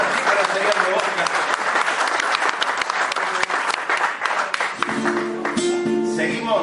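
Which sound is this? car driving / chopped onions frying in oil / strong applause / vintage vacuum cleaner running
strong applause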